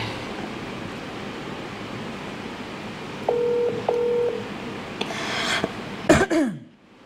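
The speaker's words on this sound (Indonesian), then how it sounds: "Sebentar, saya akan telepon dia." Two short touch-tone beeps ring out as a phone number is dialed, set against quiet room hiss and followed by handling rustles and a clunk.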